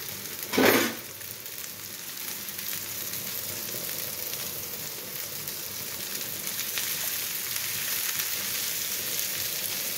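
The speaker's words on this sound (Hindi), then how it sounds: "तो अब डाल दूँगी मैं ये पत्ता गोभी, ये मैंने काट के रखी हुई थी, इसको भून लेंगे।" Chopped cabbage hitting hot oil for aloo tikki, with a brief loud splash-sizzle at the drop followed by steady, even frying hiss throughout.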